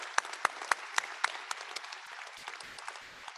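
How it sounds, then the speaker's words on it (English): An outdoor crowd at a WVU Tech university commencement claps for the president, opening with a few sharp, distinct claps that blend into scattered, moderately distant applause which softens and thins out. "Give her a round of applause, would you please?"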